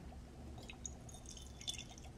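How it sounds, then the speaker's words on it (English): Distilled water poured into a container, a faint, soft trickle and a few small drips over low background hiss, with no voice present. "I just want to add a little bit of distilled water"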